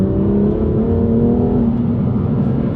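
A BMW M2 Competition's twin-turbo six-cylinder engine revving with a deep, throaty drone that holds steady, rises slightly and then eases back, close and loud.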